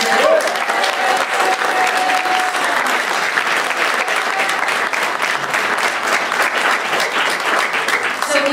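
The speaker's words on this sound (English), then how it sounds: "Can we have just one more really loud round of applause for all the candidates?" Audience applause for candidates at a secular caucus gathering in Fort Worth, a sustained, loud round of clapping from a roomful of people filling the whole stretch.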